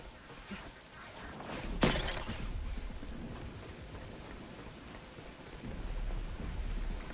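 Steady rain falls in the survival crafting game The Last Caretaker, a constant hissing wash with a sharp crack near two seconds and low rumbling swells later, no voices over it.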